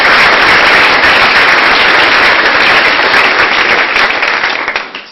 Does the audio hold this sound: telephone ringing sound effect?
no